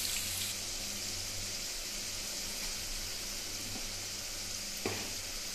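Salt and turmeric frying in hot mustard oil, giving a steady, close sizzle with occasional stirring clinks and one brief knock near the end.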